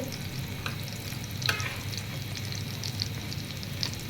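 Chicken kebabs frying in hot oil, a dense, steady sizzle close up with occasional sharp pops and crackles, alone without any talking.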